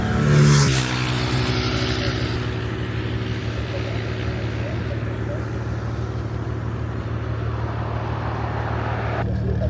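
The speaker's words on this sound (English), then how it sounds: "So we're on the bus, we're headed to Quepos." A bus bound for Quepos, Costa Rica, drones along steadily with a constant low engine hum and road rumble, after a brief louder burst at the start.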